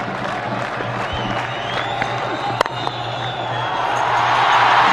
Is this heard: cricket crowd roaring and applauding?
yes